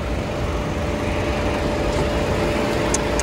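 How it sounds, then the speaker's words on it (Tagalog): A Hyundai Creta engine runs steadily at close range, a dense, even idle with a faint whine through it and no talk. "Pwede natin tingnan yung ano, eto makina."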